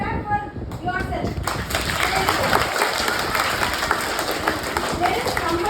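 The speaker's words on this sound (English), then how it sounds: "So clap for yourself." A room of people, likely a class, breaks into sustained applause that runs steadily throughout, with voices mixed in among the clapping.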